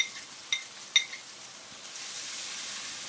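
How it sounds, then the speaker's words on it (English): Diced red onion, ginger and chillies hitting a pan of whole spices to fry: a soft, quiet sizzle with two small utensil clinks early on, and the hiss swelling slightly toward the end. "Then add the diced red onion, ginger and chillies into the pan."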